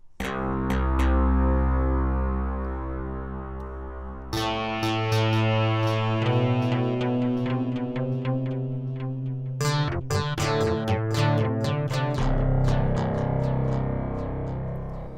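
A loud distorted synth line plays through a fully wet parallel delay chain, echoing repeats trailing each note, the delayed copies washing together into a dense, sustained texture.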